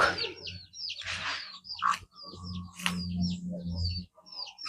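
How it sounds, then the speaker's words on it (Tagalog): Chickens chirp and peep over and over close by, short high calls scattered across a low, steady background hum. "manok."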